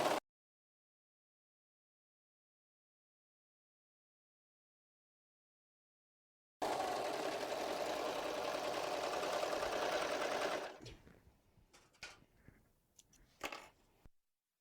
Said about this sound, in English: now we're going to go ahead and start sewing